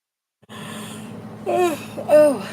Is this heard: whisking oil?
no